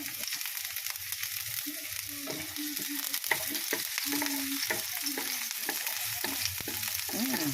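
Onion sautéing in a pan as the base for ginisang kalabasa, a continuous soft sizzle and crackle with occasional stirring, fairly close and steady throughout.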